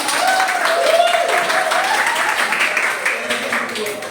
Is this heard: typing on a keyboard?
no